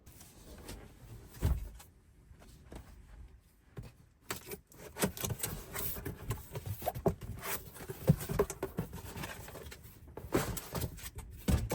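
Irregular patter of rain drops tapping on a surface, with scattered louder hits and a steady wet hiss underneath.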